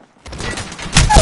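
Gunfire in the Apex Legends video game, a loud burst of shots that starts after a brief quiet and swells into a heavier blast near the end.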